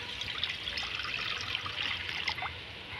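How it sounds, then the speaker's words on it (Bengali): Water pours steadily into a wok set on a clay stove, a close, continuous trickling splash lasting a few seconds with no voices. "কড়াতে আমি জল দিয়ে দিচ্ছি।"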